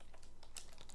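Quiet computer keyboard typing a text prompt, a short burst of several quick, light keystrokes close by.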